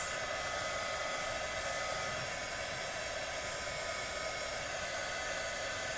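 A hair dryer blows hot air to dry craft paint on a tumbler, giving a steady, loud, unbroken whooshing hum that runs throughout with no pauses or voices.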